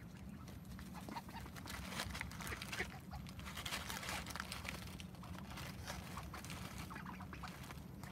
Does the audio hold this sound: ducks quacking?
yes